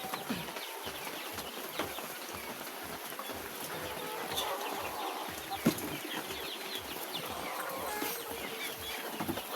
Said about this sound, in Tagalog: ito mga ka-agri ang batch 1 natin ng white leghorn